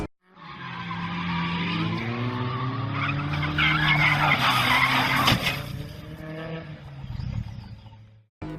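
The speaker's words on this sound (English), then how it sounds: "Drivers, fasten your seatbelt, get your engines ready, and go!" Kart race start in the Diddy Kong Racing video game, with engines revving and tires skidding and squealing in a loud, continuous stretch of rising and falling engine whine that fades out at the end.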